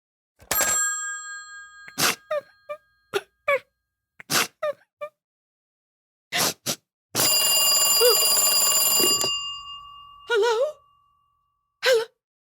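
An old-style telephone rings in a radio drama, a long continuous bell ring sounding alone in a quiet room, between short bursts of other sounds.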